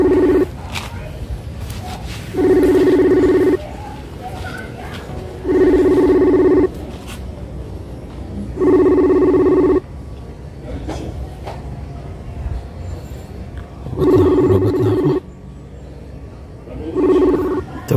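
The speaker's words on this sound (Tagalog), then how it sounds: "Nag-ring." A telephone rings on an outgoing call, five loud repeated ring bursts evenly spaced with pauses between them, with a little speech in the gaps.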